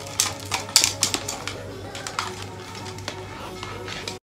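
Keys on a cheap plastic keyboard for a 2020 Dell desktop clatter in quick, irregular bursts of sharp clicks, close and fairly loud, then stop abruptly.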